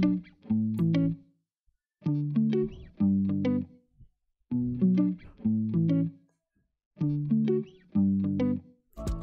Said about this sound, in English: we have this guitar sample that sounds like this